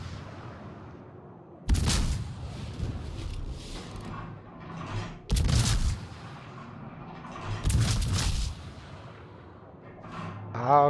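The warship Mainz firing its guns in a naval combat game, three heavy booming salvos spaced a few seconds apart, each with a rolling tail, over a low background rumble and brief talk.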